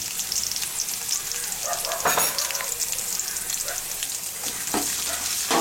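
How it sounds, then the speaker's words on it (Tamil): Green chillies and ginger-garlic paste sautéing in a pan for banana-flower cutlets, a loud, dense, continuous sizzle and crackle close up, with a few brief scraping bursts from stirring and no voices. "பச்சை மிளகா லேசாக வதங்கிட்டு இஞ்சி பூண்டு விழுது தேவையான அளவுக்கு போட்டுக்கணும்"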